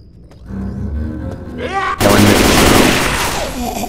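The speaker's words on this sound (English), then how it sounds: "Next horde, I'm shooting the gas." A gun opens fire on a gas can in the zombie shooter Left 4 Dead 2, a quiet lead-in with voices giving way to a sudden loud, sustained burst of shots and rumbling blast noise.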